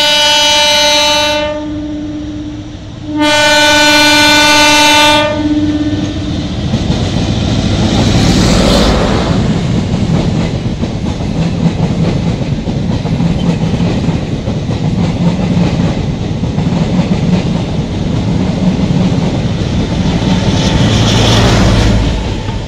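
A train passing near Jaigaon station on the India-Bhutan border, opening with two long, loud horn blasts, then a sustained heavy roar and rumble of wagons rolling by close up, with no voices.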